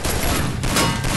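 Gunfire in the battle royale video game Free Fire, a dense, loud burst of rapid shots that runs through the whole moment with no talking over it.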